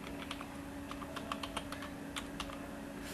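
Quiet computer keyboard typing, a scattered run of soft, irregular key clicks over a faint steady background hum, with no one speaking.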